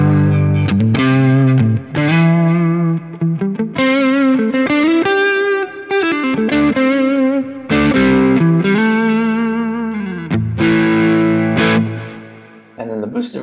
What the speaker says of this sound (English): what I did is I stacked in front of it a capture of a Kingsley Page.